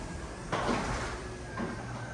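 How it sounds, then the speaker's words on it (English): A roll-up door rattles open inside an airpark hangar, two short bursts of rumbling clatter around a half second apart, moderately loud over a faint room hum and heard alone without talking. "I can roll the door up and then I can have a nice easy access between the hangar and the shop area."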